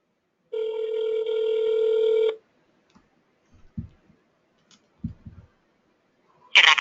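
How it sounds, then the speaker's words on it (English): Outgoing phone call ringback tone: one long steady ring followed by quiet gaps with a few soft clicks and handling noises, ending in a brief burst of noise. "So I'm going to give Robin a phone call"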